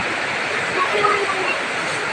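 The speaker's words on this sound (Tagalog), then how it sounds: "Ilog na yan nandyan." A steady rushing flow of river water at Calawag Mountain Resort in Antique fills the scene, broad and constant, with no distinct voices standing out.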